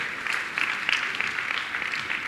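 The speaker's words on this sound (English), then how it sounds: "Let us clap for Jesus." A church congregation claps in praise to Jesus, a dense, steady wash of many hands applauding together at moderate distance, with no voices standing out.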